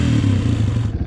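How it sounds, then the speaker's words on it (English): A Honda CRF230 dirt bike, running with the exhaust baffle in and no snorkel, idles up close with a steady, loud, low putter and a slight lingering rise in revs. "Still has maybe a touch of a hanging idle."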